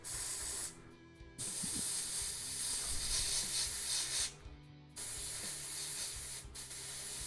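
A Gaahleri GHAD68 airbrush sprays to blow out gunk, giving a close, steady hiss broken by two short pauses and resuming each time, with no talk.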